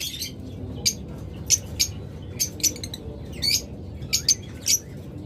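A yellow ringneck parrot gives a series of sharp, high chirps and squawks in short bursts, close and fairly loud over a low background hum.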